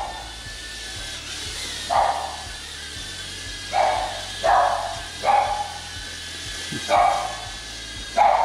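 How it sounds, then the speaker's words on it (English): Dogs bark repeatedly in the background in short separate bursts over a steady whirring hiss from a Holy Stone HS210 drone hovering nearby. "You can hear my dogs in the background."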